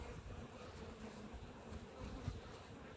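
A steady, low insect drone fills the whole stretch, the dense hum of many bees buzzing close by with no speech.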